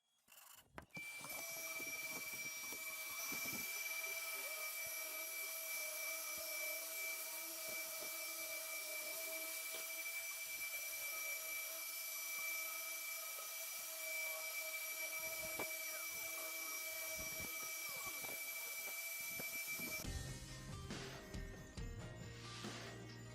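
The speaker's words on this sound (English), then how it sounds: "And then the sanding." A power sander drones continuously at a steady pitch for about twenty seconds on walnut and ambrosia maple wood, then cuts off.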